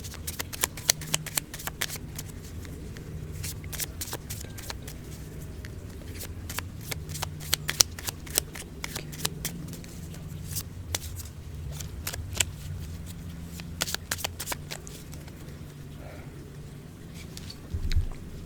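A deck of tarot cards being shuffled during a French card reading, with crisp riffling clicks and rapid card snaps that run steadily and close by, under a low background hum and no speech.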